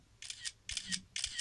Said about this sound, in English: So what is the Apple camera shutter sound?